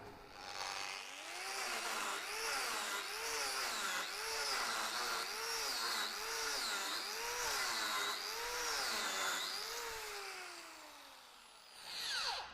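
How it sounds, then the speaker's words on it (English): A mini turbo power carver bites into wood end grain, a high whining rotary cutter that rises and dips in a steady rhythm of repeated passes, close and alone, winding down at the end. "The mini turbo loves getting into the end grain"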